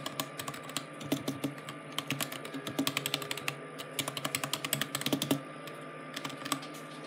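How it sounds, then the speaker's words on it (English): Rapid clicky keystrokes on an ST-K3 mechanical gaming keyboard, typed in uneven bursts with brief pauses, close and fairly quiet, no voices. "Now let's go hear the noise of the keyboard."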